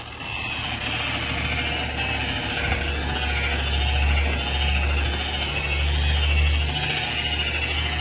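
A Harbor Freight Warrior 7-inch rotary polisher buffs the surface of an old hot tub with a steady motor whir that swells and eases slightly as it moves. It runs continuously with no voices.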